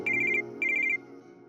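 A telephone rings in two short trilling bursts, each a rapid electronic warble, loud and close against a quiet background hum.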